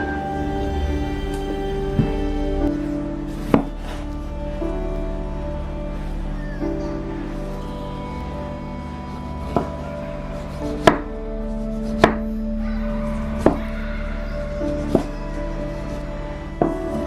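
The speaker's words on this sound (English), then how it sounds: "We want to chop our tomatoes into cubes." Knife chopping tomatoes into cubes on a cutting board, a string of sharp, separate taps spaced a second or two apart over a steady kitchen hum, close and clear with no talking.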